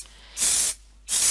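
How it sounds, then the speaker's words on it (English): Spray glue hisses from an aerosol can onto a cutting mat in two short, even bursts with a brief pause between them. The hiss is close and clear, with no talking. "So I hold the can about 15 to 20 centimeters away from the board, spray across."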